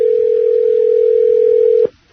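Steady telephone dial tone humming loud and unbroken for nearly two seconds before cutting off abruptly with a small click as a call is placed.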